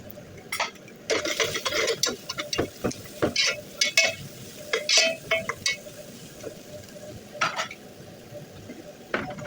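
Thinly sliced carrots tumble into a pan for a chicken dish, followed by bursts of spatula stirring and metallic scraping with faint sizzling, close and irregular, then quieter.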